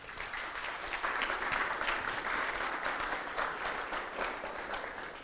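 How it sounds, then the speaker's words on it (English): Steady applause from a large conference audience, many hands clapping continuously without a break, fairly full and even throughout. "please give him a warm applause, warm welcome here on the stage."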